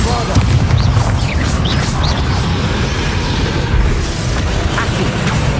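Bombarda blasting spell exploding in Hogwarts Legacy, heavy booming blasts with bursting pops layered over continuous loud combat rumble, a voice speaking over the din.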